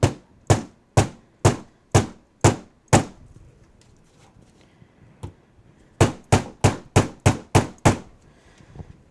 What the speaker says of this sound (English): you can use a hammer if you have a hammer in your craft room